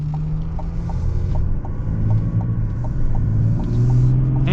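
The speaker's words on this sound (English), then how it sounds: "this LZO Duramax sounds really cool" A 2025 Chevy Silverado ZR2 Bison with the LZO Duramax diesel engine gives a deep, steady rumble that holds close and loud, with a slight swell toward the end.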